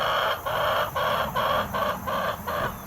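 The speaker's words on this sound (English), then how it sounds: "Look at all these chickens." Chickens clucking in a rhythmic series of about seven loud, close bursts with short gaps, over a steady farmyard background.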